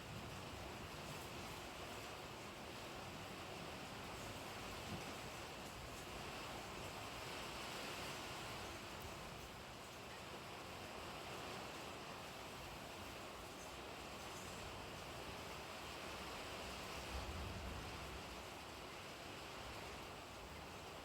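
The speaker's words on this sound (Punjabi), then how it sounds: "ਤੇ ਉਹ ਮੀਂਹ ਦੀ ਆਵਾਜ਼ ਆ ਰਹੀ ਹੈ ਜੀ" Steady, dense rain hiss fills the whole stretch, a continuous broadband wash with no pauses and no voices.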